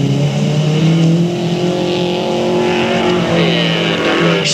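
Race cars roar around the oval at Delta Speedway, engines loud, steady and close with overlapping motor drones and rising revs throughout.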